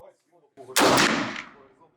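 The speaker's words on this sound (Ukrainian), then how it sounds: "спокій, концентрація і гучний постріл." A single loud gunshot cracks sharply and rings out with a decaying echo, preceded by quiet handling noises.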